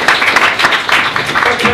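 An audience at a Klimafrühling Oberland honours event in the Garmisch-Partenkirchen district applauds, with dense, loud clapping close by and voices mixed in.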